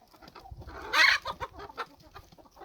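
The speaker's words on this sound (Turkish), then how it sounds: "tavuklar kavga ediyor arkadaşlar. Saldırıyorlar birbirlerine." Chickens squabble and cluck close by in a coop, a sharp burst of squawking as they fight in the middle of a run of scattered, uneven clucks.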